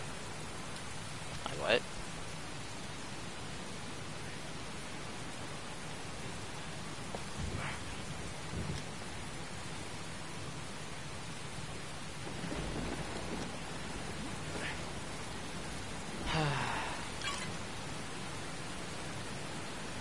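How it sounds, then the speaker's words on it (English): Steady rain pours through a scene in the video game Heavy Rain, with a few low rumbles of thunder rising out of the constant hiss. "I like how it just constantly rains here."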